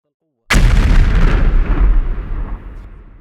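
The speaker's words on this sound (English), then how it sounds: "Explosions erupt, swallowing those inside, flames devouring every hiding spot." A sudden, very loud blast from a drone strike on battlefield trenches in a forest, striking after a moment of silence and rolling on as a long, heavy rumble that slowly fades.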